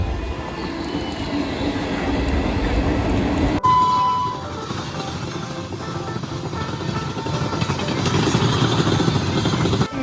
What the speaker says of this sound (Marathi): आता मध्ये आली आहे ती ट्रेन.